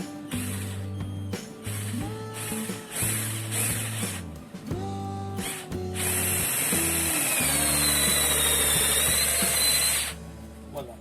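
A Mitsushi cordless drill drives a screw into material with no pilot hole, whirring in short repeated bursts with ratcheting clicks, then a long steady strained run before stopping; close and loud with no talk.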